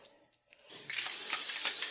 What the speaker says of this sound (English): Let's spray our dish